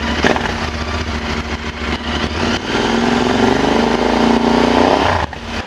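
A Royal Enfield Interceptor 650 with an aftermarket exhaust and dB killer fitted runs close and steady, its exhaust note climbing as the throttle is blipped, then dropping back to idle near the end.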